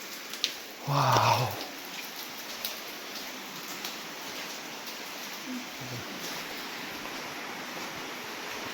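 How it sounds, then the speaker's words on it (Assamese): Water drips and trickles inside Arwah Cave in Meghalaya as a faint, steady wash of falling water, with a brief exclamation from a person near the start. "পানী পৰি আছে, দেখিছা"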